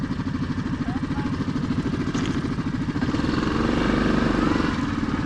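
Yamaha Grizzly 700 quad ATV engine running while being ridden, a steady close throbbing drone with rhythmic pulsing and some clatter, growing slightly louder toward the end.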